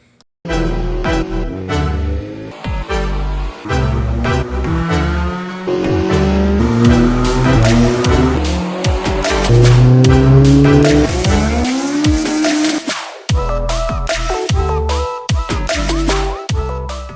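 A rebuilt stock Honda D16Z SOHC engine with ported heads revs hard on a dyno, a loud, sustained engine roar climbing through the gears with shifting pitch and brief drops between pulls.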